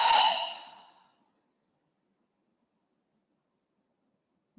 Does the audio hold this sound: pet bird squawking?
no